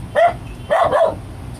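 A dog barks three times up close, one bark then a quick double, loud and clear with no talking.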